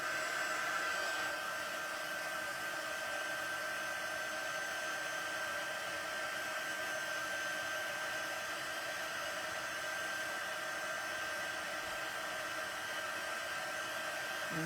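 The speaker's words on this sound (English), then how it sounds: "You want to heat up your heat tool a little bit before you go to your cardstock" A heat tool for card making runs continuously, a steady loud blowing whoosh like a hair dryer with a thin constant whine, unbroken and alone.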